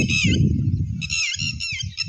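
White ducks on a lake give off a run of squawking and honking calls, close and fairly loud, over a low murmur of ambient background noise.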